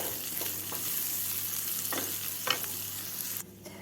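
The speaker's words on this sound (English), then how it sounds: "Now I'm going to add in the tomatoes. You fry them till they are soft." Tomatoes and onions fry together in a pan, a continuous close hiss of sizzling with a few stirring scrapes, fading quieter in the final moments.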